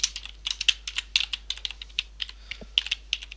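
Rapid keystrokes on a computer keyboard, close and crisp, with irregular clusters of clicks and no voice.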